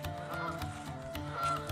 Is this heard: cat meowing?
no